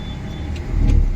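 Used Mahindra KUV100 petrol car driving, heard from inside the cabin as a steady low engine and road hum that swells slightly near the end.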